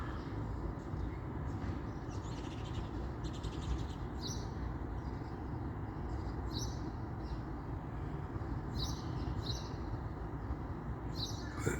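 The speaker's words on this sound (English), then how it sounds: "It's the birds." Birds chirp and tweet intermittently in the high range over a steady low rumbling background, the calls faint and scattered throughout.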